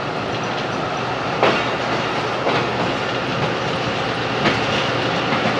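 The 171-Up Sialkot Express running between Lahore and Sialkot during heavy rain, a dense steady roar of wheels on rails with evenly spaced clicks over the joints, heard from inside the carriage without any voices.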